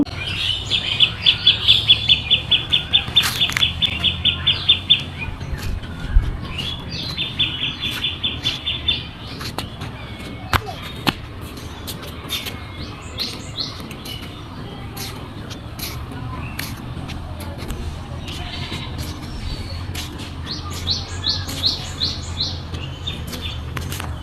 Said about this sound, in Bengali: শুনতে পেলেন তো সকালবেলা তো অনেক পশু পাখির কল কাকলি ছাগলের ডাক গরুর ডাক